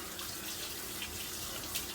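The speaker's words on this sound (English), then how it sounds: "But let me wash my hand again" A kitchen tap runs in a steady, close hiss while a hand is washed during pupusa making, with no talking.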